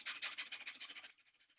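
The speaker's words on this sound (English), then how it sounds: "Fire breath." Rapid, forceful rhythmic breathing in a qigong fire breath exercise, about a dozen quick close puffs of air at an even pace that stop abruptly, followed by fainter softer breaths, with no talking.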